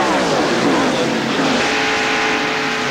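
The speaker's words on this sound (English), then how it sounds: "The car obviously beginning to get a little bit loose, but the good news for Earnhardt is he's still out front." NASCAR stock cars, Chevrolets and Fords, racing in the 1993 Pepsi 400, with a continuous loud engine roar and shifting pitch as cars pass, a faint commentator voice underneath.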